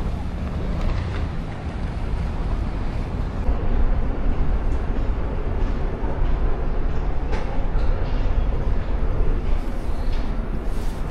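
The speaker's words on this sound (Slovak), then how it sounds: "Dámy a páni, práve ste videli montrealské metro." A Montreal metro train in winter, heard as a continuous loud rumble and roar of the moving train with broadband rushing noise, steady throughout and slightly louder in the second half, with no talk.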